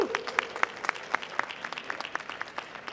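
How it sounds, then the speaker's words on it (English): Small audience clapping for Black life insurance agents at a talk on closing the racial wealth gap, with sparse, uneven individual claps at close range, fairly quiet and short, with a faint vocal whoop at the start. "Can we give them a round of applause for that?"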